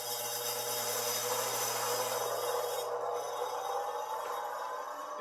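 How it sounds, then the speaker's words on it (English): A bench grinder sharpens a D-Way bowl gouge with a continuous high, gritty grinding rasp over a steady motor hum, close and even with slight variations as the tool moves. "I'm going to go ahead and grind this one."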